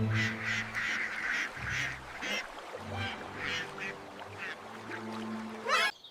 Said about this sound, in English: Oh, I see ducks in the water.